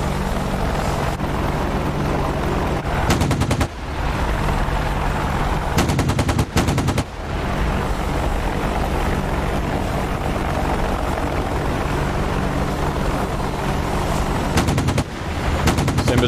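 Helicopter machine-gun fire in a DCS flight simulator dogfight between attack helicopters such as the AH-64 Apache and Mi-24 Hind, loud sustained rapid bursts layered over a constant rotor and engine roar.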